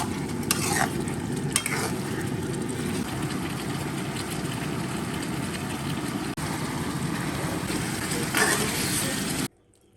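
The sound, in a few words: braised pork belly sizzling as sauce reduces over high heat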